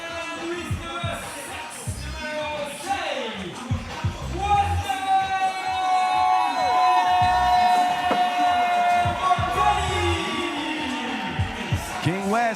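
A basketball crowd at a 3x3 tournament in Lausanne roars for a hometown player, a broad, steady swell of voices and whistles under courtside commentary and an arena horn.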